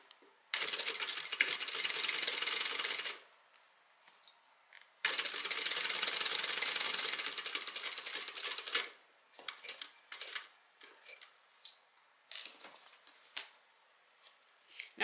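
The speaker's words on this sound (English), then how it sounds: "We're going to top stitch along the side of the zipper" A sewing machine runs in two long, steady, buzzing bursts while top stitching beside the zipper of a tote bag, followed by scattered clicks and handling noises as the fabric is shifted.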